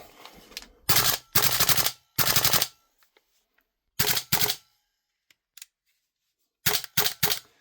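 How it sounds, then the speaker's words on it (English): A Salvo Precision MCX V2 airsoft rifle firing in loud, close bursts of rapid mechanical cycling, each burst about half a second long and separated by silences, with a springy twang from the recoil springs and a few faint clicks between strings. "the recoil springs do make a bit of a twang"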